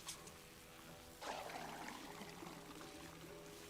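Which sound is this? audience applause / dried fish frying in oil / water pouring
water pouring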